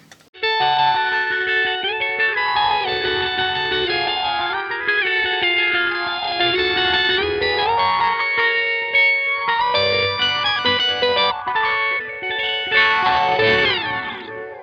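Electric guitar through a whammy pedal, notes bending and sliding sharply in pitch with a wavering, chorused tone; loud and continuous, no voices.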